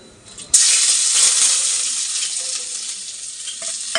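Chopped garlic with green and dried red chillies hitting hot oil in a kadai for tempering: a sudden loud, bright sizzle that bursts in and holds steadily, easing slightly as it fries, with faint clinks near the end.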